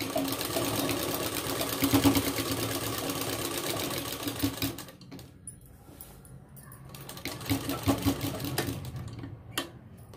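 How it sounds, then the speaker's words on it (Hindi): A sewing machine stitches a cold shoulder sleeve in a fast, steady mechanical whir for about five seconds, pauses with a few clicks and handling sounds, then runs again in a shorter burst, close and clear. "हम इस पर सिलाई लगाएंगे"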